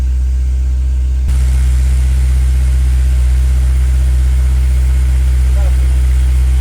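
An S2000 car engine held at 2000 RPM, its exhaust giving a constant low, loud drone throughout.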